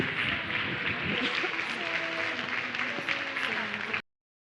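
A congregation at a women's church gathering applauds together, a steady wash of clapping with voices and faint music threads beneath, stopping abruptly.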